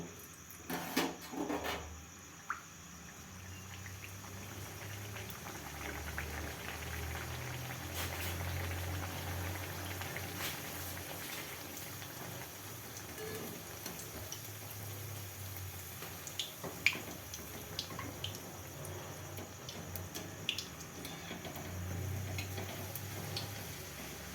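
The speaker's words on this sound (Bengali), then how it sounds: "তেল গরম হয়ে গেছে, এরপর আমি কচুরিগুলো একটা একটা করে" Pea-stuffed kachoris deep frying one by one in hot oil, a steady faint bubbling and crackle with scattered sharp pops, continuous and close, no voices.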